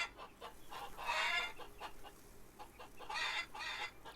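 Several clucks from chickens in a coop in the farming game Farmer's Dynasty, coming in two clear bursts of squawky calls separated by quieter murmuring, fairly close and with no voices.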